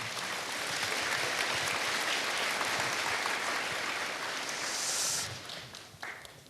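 A church congregation at a Sunday service claps together in steady, dense applause that fills the room, then tapers off and fades near the end.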